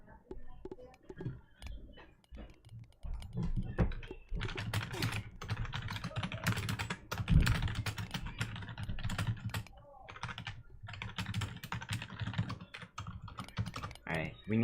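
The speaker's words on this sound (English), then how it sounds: "I definitely think the people typing are not helping." Players in an esports championship match type rapidly on computer keyboards, a steady clatter of clicks running throughout the clip under a faint hum of room noise.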